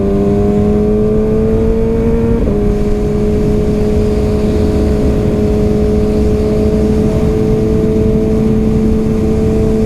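A Kawasaki Ninja ZX-6R sport motorcycle with a Power Commander tune rides on a road, its engine droning loud and steady at high revs with a single quick gear shift early on, alone throughout.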